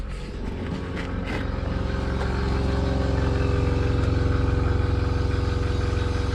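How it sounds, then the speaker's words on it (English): Air compressor on a budget 5.3 LS S15 hot rod build, running as a steady, loud mechanical drone with a constant hum that builds slightly and then holds even throughout, with no voices. "we have compressor."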